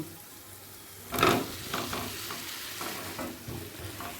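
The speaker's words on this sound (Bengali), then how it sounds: "এই সময় দিয়ে দিচ্ছি ভেজে রাখা আলু" Fried potatoes tipped into a pan of spice paste cooked on low flame for a vegetarian potato curry, a sudden burst of sizzle followed by stirring scrapes and steady frying.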